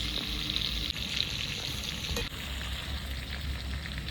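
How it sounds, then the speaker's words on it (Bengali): Steady, crackling sizzle of chicken pieces frying in hot oil for masala chicken, close and continuous, with a brief stir or shift partway through. "মাংসটাকে ভালো করে তেলে ভেজে নিতে হবে আগে"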